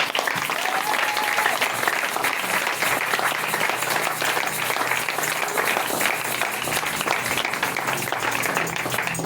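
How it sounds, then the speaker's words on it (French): A church crowd at a prophetic worship service applauds for Jesus, a loud, steady, dense wash of clapping that holds unbroken for the full length. "Est-ce qu'on peut acclamer très fort pour Jésus?"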